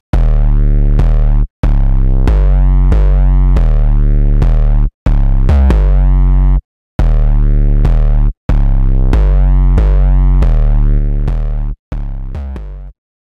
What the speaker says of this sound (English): Make a distortion, echo it.